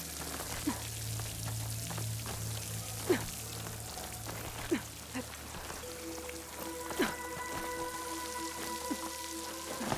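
A waterfall in the video game Horizon Forbidden West makes a steady rushing, splashing wash with scattered drips, and soft sustained musical tones rise in the background partway through.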